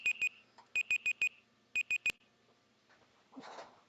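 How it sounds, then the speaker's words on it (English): An oven timer beeps in quick high-pitched bursts, first two, then four, then three, each clear and close, followed by a faint clatter of movement. "That's our beeps."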